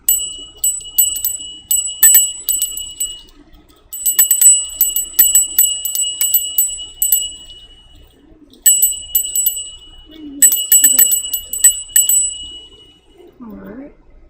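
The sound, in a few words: bell rung to clear energy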